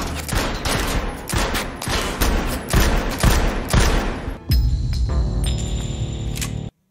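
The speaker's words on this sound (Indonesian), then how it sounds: "Brian juga latihan menembak menggunakan pistol agar ia terbiasa menembak dengan akurat" Rapid bursts of gunfire crack loudly in dense volleys from a film scene of pistol shooting practice, then give way to a sustained mechanical hum in the final seconds, with no talk.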